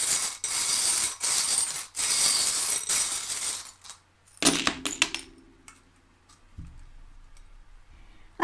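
Small charms shuffled by hand for a divination reading, first a dense, hissy rattling churn for several seconds, then a handful of sharp metallic clinks and a few soft knocks as the pieces settle, close and fairly quiet with no talking.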